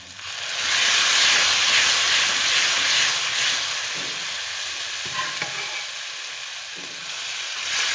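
Yellow moong dal pours into a hot ghee tadka, setting off a loud rushing sizzle and steamy hiss that swells at first, then settles into a steadier fizz with a few scraping stirs, close up.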